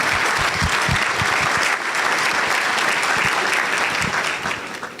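Sustained applause from an audience at a Seattle Rotary luncheon honoring Seattle firefighters and paramedics, a dense steady wash of many hands clapping throughout, fading slightly at the end.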